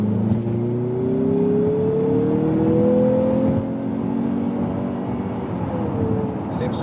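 A 2023 Mazda CX-50 Turbo with an automatic transmission accelerates hard, its engine note climbing steadily as it revs up inside the cabin, with faint cabin noise under the rising drone.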